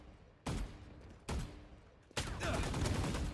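Three loud gunshots from a shooter video game, the first two spaced apart, each with a sharp crack and a decaying tail, the third followed by sustained firing and noise.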